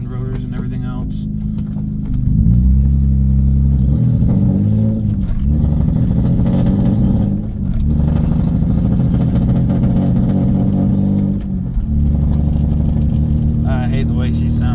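A green V6 car with a 5-speed gearbox and straight-piped exhaust, a loud, raspy engine drone that rises and falls through several revs close by, with a person talking over it.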